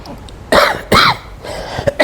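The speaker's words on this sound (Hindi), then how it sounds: "खांसी बहुत ज़्यादा आ रही है" Two harsh, loud coughs close to the microphone, followed by a softer cough and a brief throat-clearing rasp, with no talking.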